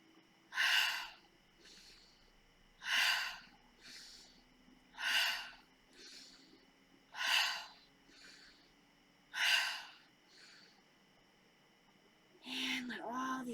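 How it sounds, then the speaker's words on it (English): Slow deep breaths during a beginner yoga session: five strong, evenly spaced inhale-exhale cycles roughly every two seconds, close and clear against a quiet room, ending with a brief burst of voice. "Let's take a few deep breaths, inhaling shoulders up, exhale back,"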